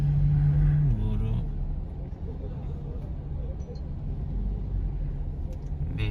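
Cars queue in dense, slow one-way holiday traffic on a Java road, a steady low rumble of engines heard from inside a vehicle, with a brief louder hum at the start and voices talking over it.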